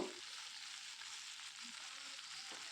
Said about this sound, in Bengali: তারপরে এটাকে আরও দু মিনিট মতো ভালো করে নেড়ে ভেজে নেব